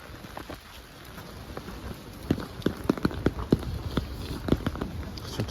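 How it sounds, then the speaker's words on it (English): Rain falling on a street in Lviv, a steady soft patter with scattered sharper drops and taps hitting nearby surfaces, moderately close and fairly quiet. "Lviv, it's raining"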